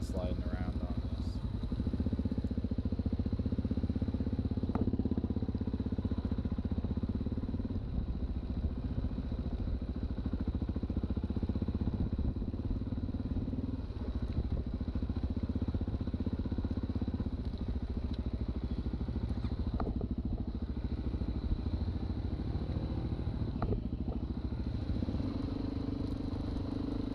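A dual sport motorcycle rides off-road on a trail, its engine droning steadily and close throughout with rumble and wind buffeting, a continuous loud mechanical roar with little variation.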